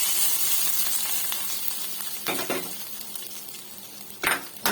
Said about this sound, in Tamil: நல்லா கிண்டி விட்டுக்கலாம்